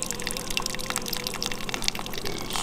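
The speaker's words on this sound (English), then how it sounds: "Just hearing that drip" Coffee dripping from a brewer in a Hawaii home kitchen, a steady wet patter of small drips and trickling liquid running continuously and fairly close throughout.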